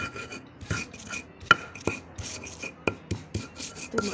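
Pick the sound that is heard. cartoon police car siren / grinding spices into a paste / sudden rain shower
grinding spices into a paste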